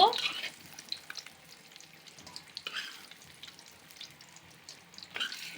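Koi fish frying in a pan with onion stalks, a soft steady sizzle with occasional louder spatters and stirring clatter, fairly quiet overall.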